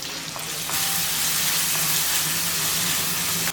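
Ginger garlic paste spits and sizzles loudly in a hot pan, a dense hiss broken by a few short scrapes and clinks as it is stirred, with no talking.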